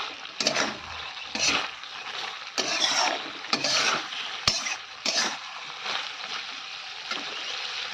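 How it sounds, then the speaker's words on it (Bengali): Water poured into a simmering rohu fish curry with drumsticks in a pan, a soft continuous splashing and sizzling wash that swells and fades in several waves, moderately quiet and with no talking. "এখন কিন্তু দিয়ে দেবো পরিমাণ মতো জল"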